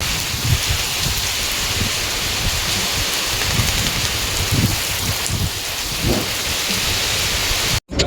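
Heavy rain pours steadily while low rumbles of thunder roll through in the background, loud and close, with no one speaking.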